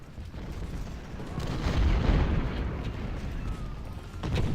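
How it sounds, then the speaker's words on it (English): Civil War cannon fire in the strategy game Ultimate General: Civil War, a steady wash of booming artillery and distant battle rumble rising and falling throughout, with no talk. "those cannons are not as good as the Napoleons that I have on the bridge"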